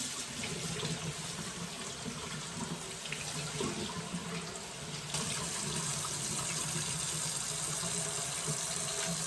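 Steady stream of tap water running into a kitchen sink as palmini noodles are rinsed, a continuous close splashing hiss with no talking.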